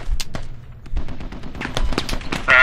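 Bursts of rifle gunfire in the tactical shooter Squad, with several sharp shots and short volleys spaced irregularly across the clip, ending in a sustained loud burst.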